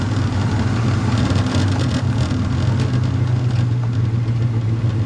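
A 1964 Pontiac GTO with its 389 engine runs with a loud, steady low rumble, heard close up from inside while driving, with no talking.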